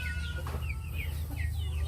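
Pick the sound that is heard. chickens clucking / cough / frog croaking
chickens clucking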